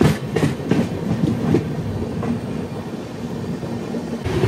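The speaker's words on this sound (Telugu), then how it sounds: "ఇదే బిలాస్పూర్ తిరుపతి వీక్లీ ఎక్స్ప్రెస్" Bilaspur–Tirupati Weekly Express rolling past at close range, a steady heavy rumble of rail wagons with rhythmic wheel clatter over track joints, continuous and loud throughout.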